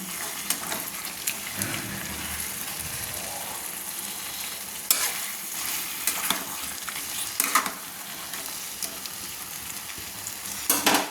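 Liver and gizzard curry with chicken masala is stirred in a frying pan, a steady sizzle broken by irregular scraping strokes of the spoon, close up with no talk.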